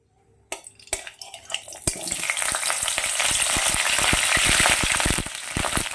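Cinnamon and spices drop into hot white oil in a wok, starting with a few sharp clatters and then building into a steady, close sizzle crackling with small pops, with no talking.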